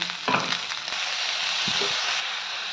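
Onions, green chillies and dried shrimp fry in a pan, giving a dense, continuous close sizzle with a few brief scraping or stirring knocks, and no speech.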